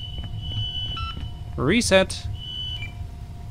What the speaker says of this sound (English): let's shut that alarm off